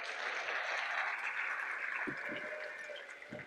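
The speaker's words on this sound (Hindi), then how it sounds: "सरवत के लिए जोरदार ताली" Steady audience applause at an indoor education panel session, a fairly faint, continuous wash of clapping with a few thumps toward the end.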